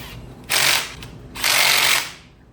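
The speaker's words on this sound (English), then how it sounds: "Easy as that, just bolt it on." A timing chain tensioner bolted onto a 2017 Subaru Crosstrek FB25 engine with a ratchet, in two loud close bursts of rapid whirring clicks separated by a short pause.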